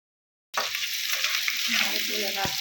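Onions hitting hot mustard oil: after a half-second of silence a loud sizzle bursts in and holds as a steady, close frying hiss, with a brief clink of a utensil near the end.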